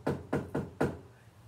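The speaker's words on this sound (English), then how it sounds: "There was a knock" Four firm knocks on a front door, evenly spaced and fairly close, the last one slightly louder, then quiet.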